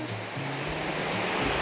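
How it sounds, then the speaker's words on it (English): Waterfall near Agness, Oregon, swollen by heavy rain and running toward the Rogue River, a steady close rushing roar of falling water with no pauses. "Oh, I hear another waterfall."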